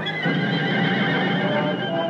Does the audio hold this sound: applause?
no